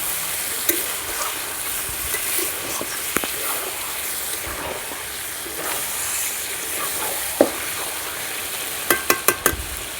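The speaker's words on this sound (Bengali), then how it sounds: "মাংসের সঙ্গে সমস্ত মশলা ভালো করে কষিয়ে নিয়েছি।" Chicken fries with spices in a pan, producing a steady close sizzle and hiss while a spatula stirs it, with scattered taps and a quick cluster of sharp metallic knocks near the end; no one speaks.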